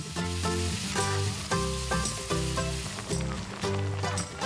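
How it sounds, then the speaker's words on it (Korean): Meat sizzles and hisses steadily as it stir-fries in a pot, with a bright crackle running under tuneful background music. "적당한 크기로 썰어 냄비에 넣고 볶아주는데요"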